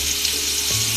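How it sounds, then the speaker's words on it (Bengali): Potatoes frying with a little salt and turmeric in oil already used for frying fish, a steady, close, dense sizzle that runs unbroken and alone. "আমি অল্প একটু লবণ আর হলুদ দিয়ে আলুগুলোকে ভেজে নেব।"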